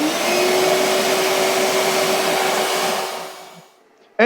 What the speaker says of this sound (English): So let's go ahead and turn on the shop vac.